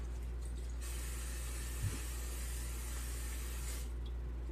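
Cooking spray hisses into a loaf pan for banana bread in a quiet kitchen, one steady, faint burst lasting about three seconds.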